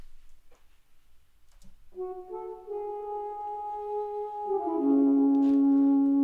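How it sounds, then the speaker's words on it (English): After a near-silent start with faint ticks, a sustained saxophone tone swells in, holding long notes that rise and grow louder toward the end. "Next up, I added the saxophone, and it sounds like this."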